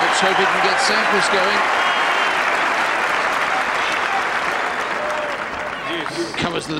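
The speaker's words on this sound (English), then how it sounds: "That's got the crowd going." Tennis crowd at the 2002 Indian Wells semifinal between Hewitt and Sampras breaking into loud sustained applause and cheering, steady throughout and slowly fading toward the end, with a commentator talking over it.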